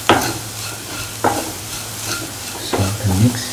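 A ground mixture of Kashmiri chilies, mustard seeds and asafoetida is stirred into potato pickle with salt, giving a few distinct scraping strokes of the spoon against the pot over a low background hum.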